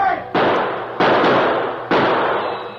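Three sharp staged gunshots from a radio drama, each a loud crack with a ringing decay, spaced roughly evenly apart with no talk over them.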